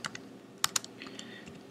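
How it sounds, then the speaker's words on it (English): Someone typing an IP address on a computer keyboard: a short run of quiet, uneven key clicks, with a couple of sharper taps in the middle. "we'll type in the IP address"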